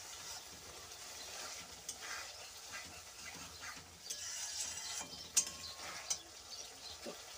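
Masala stir-fried in a pan with a little water added for a loitta fish curry, giving a steady quiet sizzle and hiss with occasional soft scrapes and taps of a spatula.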